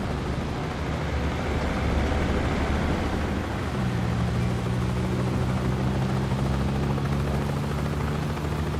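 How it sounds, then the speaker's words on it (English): Helicopter approaching in the 007 First Light video game, a loud steady rotor thrum and engine whine that builds a deeper droning tone midway, continuous and close, with no speech over it. "Bavma's heli is inbound."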